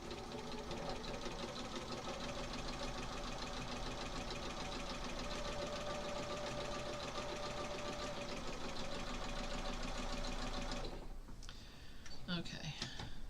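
A sewing machine stitches a quilt in a steady, fast mechanical chatter that runs almost unbroken for about eleven seconds, then stops and gives way to quieter handling noises.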